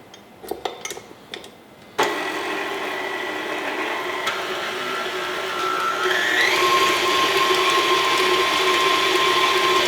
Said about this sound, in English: Now I'm going to use my paddle attachment